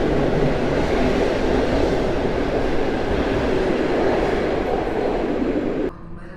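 A passenger train with half-coaches and a combo car pulls out of Warszawa Centralna station, giving a loud, steady rumble with rolling wheel noise that drops off sharply near the end.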